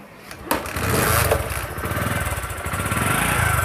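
A Bajaj Platina 100cc motorcycle with a newly fitted battery starts with a sharp catch, then settles into a fast, loud, close putter.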